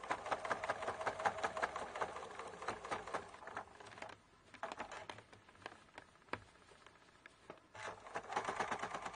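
A sturdy sewing machine stitches through many quilt layers of a cathedral window quilt, giving a fast, steady mechanical chatter with brief pauses, fairly close and alone.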